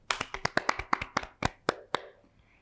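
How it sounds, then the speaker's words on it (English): A class clapping together at the end of a lesson, a quick run of about a dozen crisp, close hand claps in a loose rhythm that fades out after two seconds. "Shall we clap once for all of you who studied hard"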